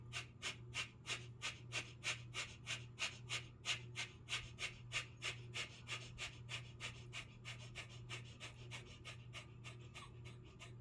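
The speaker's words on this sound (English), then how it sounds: "Fire breath." Rapid fire-breath panting in a breathing exercise: quick, sharp, evenly paced breaths, roughly three per second, close up and continuing steadily without speech.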